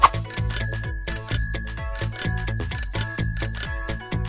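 A bicycle bell rings in four quick bursts of repeated bright dings, loud and close with short gaps between, and no voices over it.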